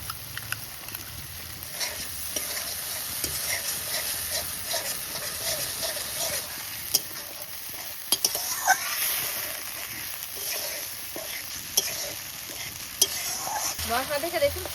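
Sour yogurt stirred into sizzling masala with tomato and chili powder in a pan, a continuous frying hiss broken by repeated spatula scrapes and sharp metal taps against the pan, close and fairly loud.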